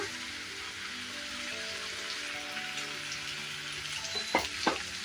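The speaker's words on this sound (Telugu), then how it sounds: "ఇప్పుడు మనము ముందుగా పొలగొట్టుకున్న ఎగ్స్ మొత్తం వేసేసుకుంటున్నా" Beaten eggs for egg burji hit a hot pan with a steady, fairly loud sizzle, closing with a couple of sharp scrape-like bursts near the end, with no voices.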